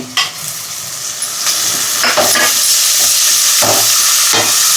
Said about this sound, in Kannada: ಹಂಗಾದ್ಮೇಲೆ ಸಬ್ಸಿಗೆ ಸೊಪ್ಪು ಹಾಕ್ಕೊತಾ ಇದ್ದೀನಿ ಅದ್ರ ಜೊತೆಗೇ